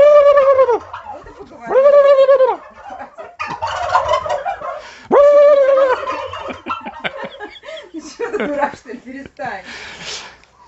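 Young turkeys, 14 weeks old, Hybrid Converter and BIG-6 breeds, gobble in several loud nearby bursts, with clucking and chatter from the flock between calls.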